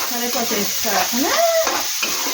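Onion and green chillies frying in a pan, a steady hiss of sizzling oil with a voice speaking briefly over it.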